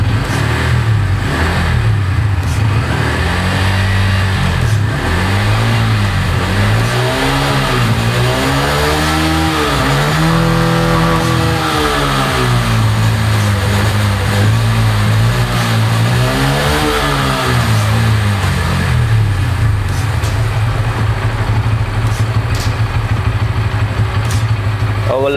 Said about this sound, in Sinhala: ඒක බලලා එක්සෝස් නෝට් එකක් ආන්න යමු